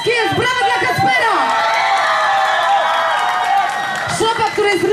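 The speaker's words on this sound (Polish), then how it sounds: "brawa dla Kacpera!" Concert audience at a show in Ścinawa erupts in loud, sustained cheering and whoops, a dense crowd roar that swells and holds for several seconds, with a voice on the PA over the start and end.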